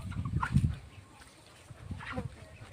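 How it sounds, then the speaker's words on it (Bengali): Chickens on a village chicken farm clucking in short bursts, near and moderately loud, with a quieter pause between the two groups of calls. "এই দেখুন আমাদের মুরগির ফার্ম।"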